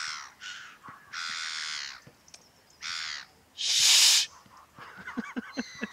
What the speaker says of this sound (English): Is that a seagull squawking?